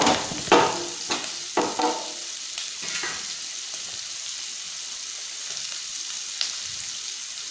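Food stirred in a pan on a gas stove set low: a few close scraping strokes of a spoon early on over a steady frying hiss, then the sizzle alone continuing softly, with no talk.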